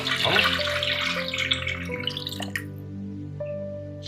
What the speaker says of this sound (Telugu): చింతపండు నీళ్ళు వేసుకుంటాం.